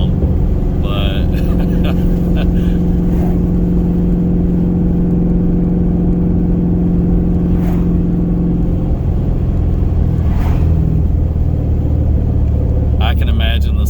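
A 2020 Mustang GT500 fitted with a 3.8 Whipple supercharger and making 1200 whp drives with the windows down, its loud engine rumbling steadily throughout, with brief swells of acceleration and talk mixed in.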